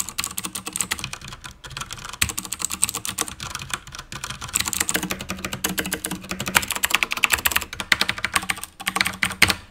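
Steady, fast typing on a WASD Code mechanical keyboard fitted with Cherry MX Clear switches, dense clacking keystrokes up close and loud, with no talking.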